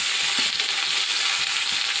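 Cauliflower frying in a pan in a small home kitchen, a constant hissing sizzle of hot oil punctuated by the scrape and clatter of stirring, close and fairly loud with no voices.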